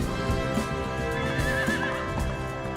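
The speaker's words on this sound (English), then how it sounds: "And a horse." A horse whinnies in a film scene, a wavering neigh with clip-clop hooves and music underneath, fairly loud and steady for a few seconds.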